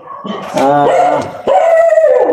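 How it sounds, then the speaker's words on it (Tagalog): Several dogs bark and howl at close range in bursts, with long wavering howls rising over short barks across two separate outbursts and no talking. "Nadong aso to. Parang may nakita sila"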